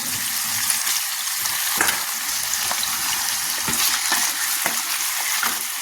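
Marinated chicken pieces frying in hot oil with browned onions, giving a loud, continuous close-up sizzle with occasional scraping stirs throughout.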